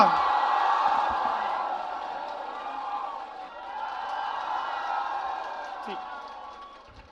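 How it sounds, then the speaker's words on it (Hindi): A large audience greets Vikas Divyakirti with loud applause and cheering, a dense sustained roar of clapping that swells, dips briefly and swells again before tapering off. "जोरदार तालियों से स्वागत करिए विकास दिव्यकीर्ति सर का।"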